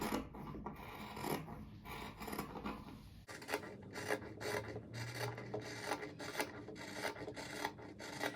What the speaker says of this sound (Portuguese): E depois tem que fazer uns piques aqui, toda a volta.